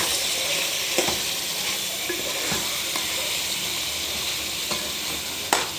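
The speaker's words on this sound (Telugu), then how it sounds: "చక్కగా కలుపుకోండి ఇది బాగా ఆయిల్లో ఫ్రై కావాలి" Chicken coated with chili powder and salt sizzling in hot oil as it is stirred in a pan, a continuous close crackle with occasional scrapes and taps of the spoon, no voices.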